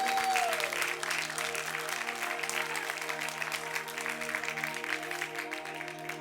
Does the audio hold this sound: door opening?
no